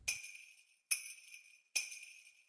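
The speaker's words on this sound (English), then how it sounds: "So when it's hit and moves through the air, you can hear it moving through the air and it will sound like this." A tennis ball whooshing through the air is rendered as an audio cue for following live play, with three evenly spaced, bright, ringing swishes, each sharp at the start and tailing off, fairly faint and heard alone.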